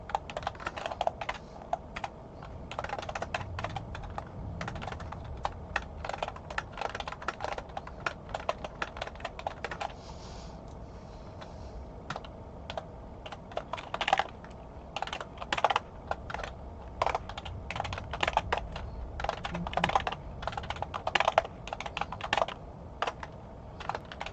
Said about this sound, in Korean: 지금은 퍼센트 단위를 직접 키보드로 입력하고 있습니다